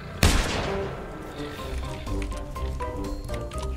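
One sharp gunshot from a hunting rifle in the video game The Hunter: Primal cracks loudly at the start, then fades into quieter game ambience with soft tonal music underneath.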